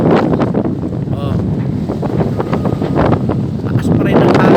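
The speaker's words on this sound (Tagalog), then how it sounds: "Lakas pa rin ang hangin." Strong wind buffets the microphone by the sea after a typhoon, a loud rushing roar with gusty bursts, while a voice talks over it.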